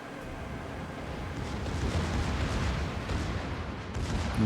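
Secondary guns blaze from a battleship in World of Warships, producing a steady, rumbling barrage of overlapping reports under a constant wash of sea and engine noise.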